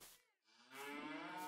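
Cattle moo in the video game Farming Simulator 22, a short low call followed after a brief pause by a longer, louder sustained moo, heard alone without talk.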